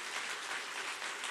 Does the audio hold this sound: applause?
yes